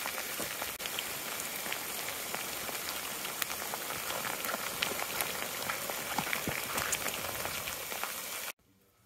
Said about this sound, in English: it is raining cats and dogs out here.